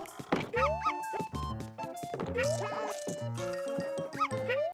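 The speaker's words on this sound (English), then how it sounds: "When a Poochie Pup barks, it feels like they're in your controllers" Poochie Pup dogs from Yoshi's Crafted World bark and yip repeatedly among bright, bouncy game music and soft thunking effects, close and lively.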